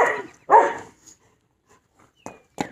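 A dog indoors gives two loud, close barks, then a few quieter short yips after a pause.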